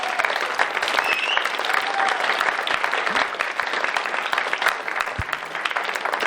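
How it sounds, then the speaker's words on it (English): Sustained applause from a large audience at a jazz concert, steady dense clapping throughout with a few louder claps standing out. "One more round of applause, ladies and gentlemen"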